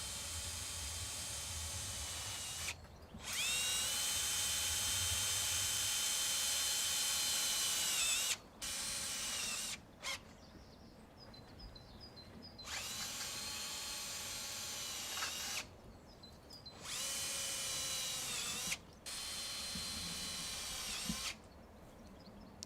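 A power drill whines in repeated bursts, driving self-drilling screws through joints and P-clips one after another with short pauses between each run, close and fairly loud.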